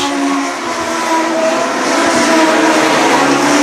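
Legend race cars roar around a track at night during a heat, a dense, sustained pack of engine noise holding steady and loud throughout with no voices.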